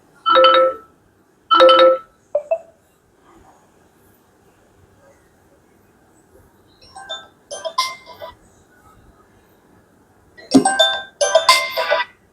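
A Vivo smartphone speaker plays a ringing chime tone in several short bursts with pauses between, then a denser run of ringing notes near the end.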